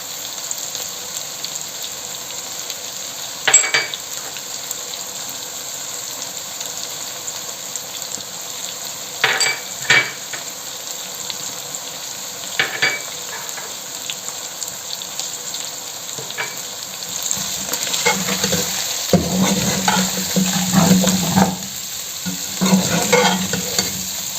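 Chicken jalfrezi with ginger fries over low heat in a pan, a soft continuous sizzle broken by intermittent scraping stirs that grow busier and louder toward the end.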